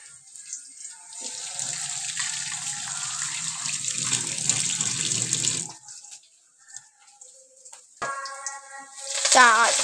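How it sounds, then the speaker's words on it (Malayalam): Tap water runs steadily into a sink as curry leaves are rinsed at home while cooking mango curry, a continuous hiss for several seconds that stops, followed by clinks and a voice speaking briefly. "കരിവേപ്പില അമ്മ കഴുകാൻ കൊണ്ടുപോവാണ് കേട്ടോ."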